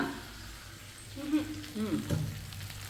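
Food sizzles and crackles softly in a hot pan while a spoon scrapes and stirs, with faint voices in the background.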